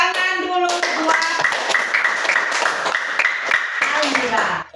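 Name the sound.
children clapping hands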